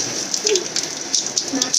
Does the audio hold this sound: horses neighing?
no